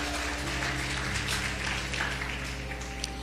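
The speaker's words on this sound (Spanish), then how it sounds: "Denle un fuerte aplauso a esta joven." Applause from a church congregation, a steady dense wash of clapping filling the room at a loud, even level throughout.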